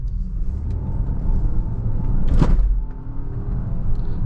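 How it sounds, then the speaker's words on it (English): A Volvo XC90 T8 plug-in hybrid SUV accelerates up a hill, heard from inside the cabin as a steady, close engine and road rumble that swells briefly in the middle and then settles, with no talking. "Let's have a quick little acceleration up this hill."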